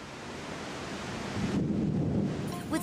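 A thunderstorm in Singapore's tropical climate, a low rolling rumble of thunder swelling midway over steady rain hiss and wind buffeting the microphone, loud and enveloping, with no talking.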